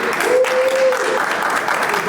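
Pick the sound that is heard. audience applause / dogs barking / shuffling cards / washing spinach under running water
audience applause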